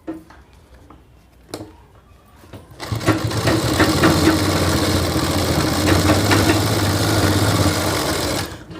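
A sewing machine stitches a shirt collar, running steadily for several seconds at close range with a continuous mechanical whir, after a few faint taps and handling noises before it starts.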